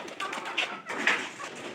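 Pigeons coo in short soft repeated calls, close and moderately loud, a couple of throaty pulses over a quiet background.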